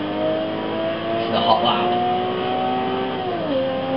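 A Nissan Skyline R32 GTR V-Spec engine, built for high revs with new camshafts, holds a steady, strong rev, then the pitch drops near the end while someone talks over it.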